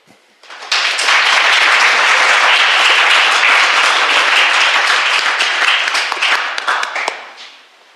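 A live audience at an evening event breaks into sustained, dense applause welcoming two speakers, swelling quickly to a steady roar of clapping before tapering off near the end.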